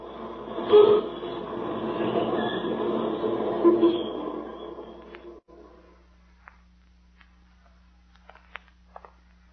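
Subway train ride effect in a 1941 radio drama: a rumbling rail roar builds and holds for about five seconds, then cuts off abruptly, leaving a low hum and a few faint clicks.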